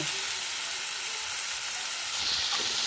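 Bitter gourd and potato slices fry in oil in a pan, giving a steady, loud, continuous sizzle up close that builds slightly toward the end, with no voices.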